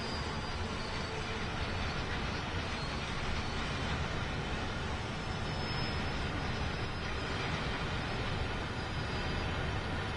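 A long freight train of refrigerator cars and box cars rolling on the Sherman Hill line in Train Sim World 2, a steady dense rumble and roar sustained throughout with no talk.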